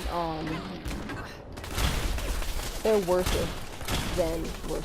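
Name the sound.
gunfire from gunners attacking in Fallout 4 video game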